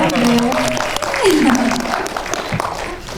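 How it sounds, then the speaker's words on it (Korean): Audience clapping for a grandmother attending a film talk, moderate applause running throughout with a speaker's voice talking over it. "박수 한번 쳐드릴까요?"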